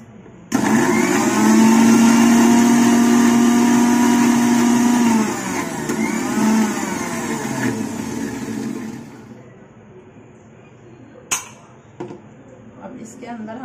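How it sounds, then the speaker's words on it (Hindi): Electric blender grinding mango pieces for a mango shake, a loud steady whirring motor that runs for about eight seconds, shifts pitch midway, then cuts off, leaving quiet room noise with a couple of faint clicks. "मैंने आम डाल दिए इसमें, और मैं इसको थोड़ा सा पीस लूंगी।"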